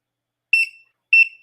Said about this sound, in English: I need you to beep.